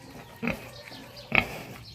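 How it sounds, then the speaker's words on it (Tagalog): A pig grunts twice, at roughly the half-second and near the end, fairly close and low over a quiet background. "Yan ang baboy ko."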